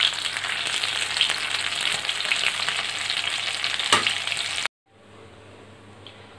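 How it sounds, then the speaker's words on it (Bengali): Fish frying in a pan of oil gives a loud, steady broadband sizzle with a few sharper crackles, then cuts off abruptly, leaving only a faint quiet hiss. "আমার মাছটাও ভাজা হয়ে গেছে।"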